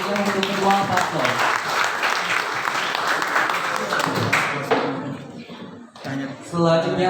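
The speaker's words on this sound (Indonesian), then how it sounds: "Berikan tepuk tangan yang meriah untuk kedua paslon." Dense, loud audience applause at a high school student council candidate debate fills most of the clip, fading out with people talking over the tail end.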